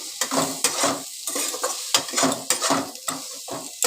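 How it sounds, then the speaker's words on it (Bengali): A spoon stirs ghugni with turmeric in a pan, rhythmic metallic scrapes and clinks repeating close up over a soft sizzle, with no talking. "হলুদ দিয়ে দিলাম আবার একটুখানি নাড়াচাড়া করে নিচ্ছি"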